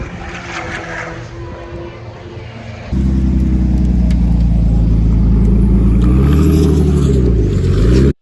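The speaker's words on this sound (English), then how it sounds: "a Mark II Golf with a VR6 engine in it" A Mark II Golf with a VR6 engine revs hard at a Castle Combe track day, a loud, close, sustained rasping drone that climbs and dips in pitch, after a quieter stretch of background engine noise.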